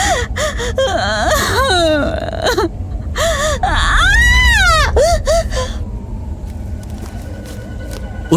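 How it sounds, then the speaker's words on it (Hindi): Sobbing and gasping in a horror audio drama, with wavering, choked breaths and whimpers that swell loudly over a low rumbling backdrop, then fade toward the end. "सिसकने की आवाज बढ़ने लगी।"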